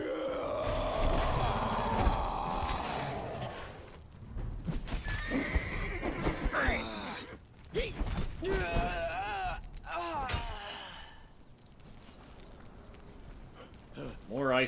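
A horse in Conan Exiles whinnies and snorts amid hoofbeats and clattering game effects. The sounds are loud and varied, with bursts of activity and some vocal grunts.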